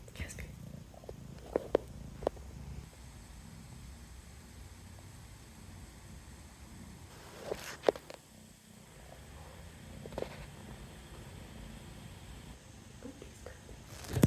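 A second pet cat purrs close by in a continuous low rumbling purr for about fourteen seconds, with occasional clicks and rustles and faint noises over it.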